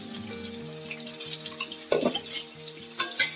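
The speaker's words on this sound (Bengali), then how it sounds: "এখন লাল করে পেঁয়াজটা ভেজে নেব।" Salted onions fry in hot oil in a pan, giving a steady close sizzle with a few clattering stirs of a spoon against the metal.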